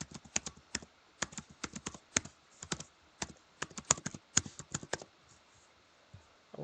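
Computer keyboard typing login details, bursts of close, crisp keystrokes in irregular clusters with short pauses between, alone without talk.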